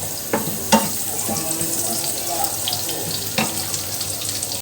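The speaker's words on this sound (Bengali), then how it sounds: "তেলটা গরম হয়ে গেলে আমি রসুন দিয়ে দেব।" Crushed garlic cloves frying in hot oil for a white sauce cheese pasta, a steady close sizzle with a few sharp pops and spatters near the start and again later.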